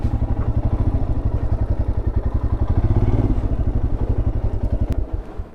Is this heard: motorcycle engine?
yes